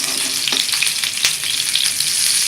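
Stuffed tomatoes sizzle steadily in oil in a flat pan. The frying is close and continuous, broken by a few soft scrapes and knocks as the tomatoes are tossed.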